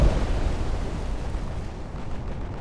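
A torpedo strikes a warship in the naval strategy game Ultimate Admiral: Dreadnoughts. A loud, heavy blast opens the clip and then settles into a long, dense rumble that fades only slightly, with no speech.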